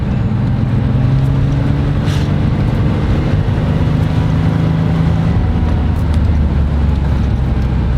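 A 1987 Porsche 911 Carrera with an air-cooled flat-six engine accelerates on the road, a loud steady engine drone with rising tones under constant wind rush, heard from inside the car with no talk.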